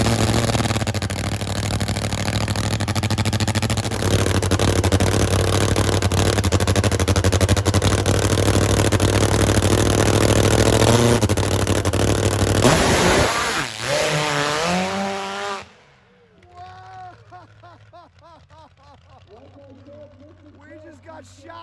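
The Top Fuel dirt drag motorcycle Wild Thing 2 roars loud and steady for about thirteen seconds, then the engine note cuts off abruptly, leaving quieter sounds and voices talking afterward.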